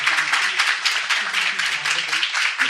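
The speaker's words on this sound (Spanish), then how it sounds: "quiero un aplauso para Mari Carmen y para José Luis" Audience at an association gathering applauds, a close, steady patter of many clapping hands lasting a few seconds with no speech.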